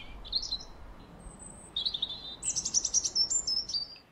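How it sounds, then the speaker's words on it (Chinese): Spring birdsong: a few bright chirps and tweets, then a quicker run of repeated high calls, heard close and clear over a faint, steady background hum, with no talking. "芬妮的祖母带她用耳朵聆听春天的鸟鸣"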